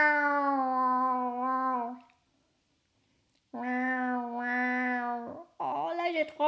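A voice imitates a cat's meow in a Vietnamese-French children's song about animal sounds: several sustained, sung mewing calls separated by a short silence, close and loud, ending with a rising meow-like cry.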